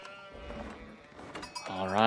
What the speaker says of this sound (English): sheep getting picked up early here